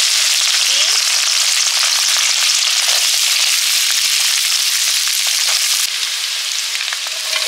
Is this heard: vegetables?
yes